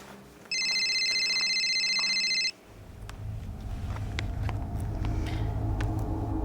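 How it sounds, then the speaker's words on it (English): A telephone ringing with a bright electronic double-tone ring lasting about two seconds, loud and close, followed by low rumbling background noise. "hang on a second, my phone's ringing"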